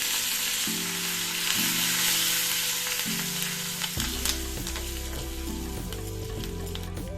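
A Telugu tempering of asafoetida and curry leaves fries in hot oil for tamarind dal, a steady close sizzle running under background music throughout.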